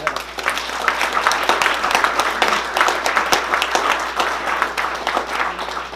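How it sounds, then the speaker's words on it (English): A crowd applauds steadily, dense clapping filling the whole stretch at a fairly loud, even level with no pauses. "How about a round of applause"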